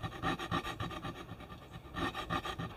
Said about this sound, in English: Then clean that little slot out with this square box file.